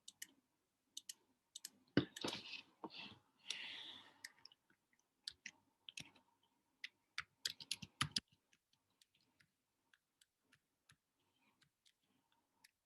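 Quiet clicks on a computer while logging in to an account, a scattering of sharp taps and a short burst of rapid typing-like clicking, close and faint, thinning to isolated clicks, with no talking.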